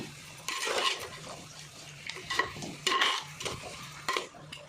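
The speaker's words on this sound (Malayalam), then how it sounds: "നന്നായിട്ട് നമ്മൾ ഇളക്കി." Chicken is stirred in a cooking pot, a spoon scraping and clattering in several bursts of wet, shuffling noise with brief pauses between, close and fairly quiet, with no talk.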